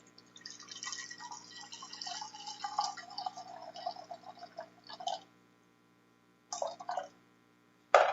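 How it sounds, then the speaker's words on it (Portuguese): Water is poured into a container on a kitchen scale, measuring 300 ml for coffee brewed in a cloth filter. A steady, close trickling stream runs for about five seconds, then two short splashing pours follow after a pause. "vamos pesar uma quantidade aqui de água e depois pesar o meu café"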